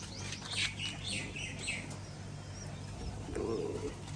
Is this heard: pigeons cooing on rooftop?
yes